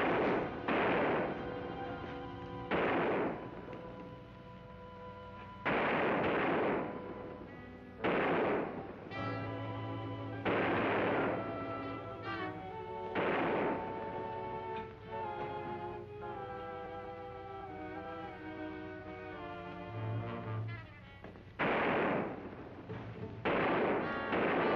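Gunshots in a western TV episode, a series of sharp blasts spaced irregularly across the passage, some close together, heard against a quiet background with a sustained tone in the middle.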